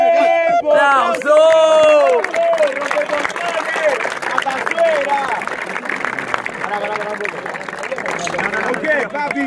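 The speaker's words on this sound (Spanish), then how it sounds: "¡Aplauso!" Crowd at a freestyle rap battle competition clapping and cheering after a verse, an energetic burst of applause and shouts beneath excited voices.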